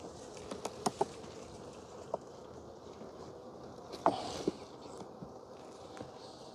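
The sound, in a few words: honey bees working on a hive frame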